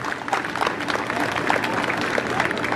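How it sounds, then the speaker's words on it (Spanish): Audience applause at a rancho event in San Vicente, a steady wash of clapping from a crowd with voices mixed in, continuous and moderately loud throughout. "Venga, venga el aplauso"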